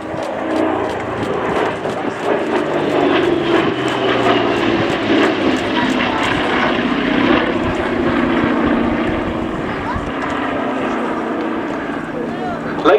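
Piston engines of an A-26C Invader, a former borate firebomber, at the Duxford Battle of Britain airshow, a steady droning roar throughout, with someone talking over it.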